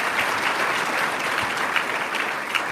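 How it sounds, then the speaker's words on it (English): Sustained applause from an audience at an MLK Day breakfast honoring award recipients, a steady dense patter of many hands clapping throughout, moderately loud and without talk. "Could we all just give them all one more round of applause for all their work?"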